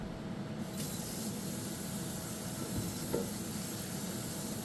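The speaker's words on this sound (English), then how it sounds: "Now what I'm going to do is just give this pan a quick wash" A frying pan gets a quick wash under running tap water, giving a steady spraying hiss with faint clinks and a few scrapes, close and moderately loud with no talking.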